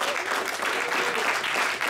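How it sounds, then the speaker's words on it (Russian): Audience applause at a camp gathering, a brief dense burst of many people clapping steadily with no pauses. "От нас огромное спасибо и аплодисменты!"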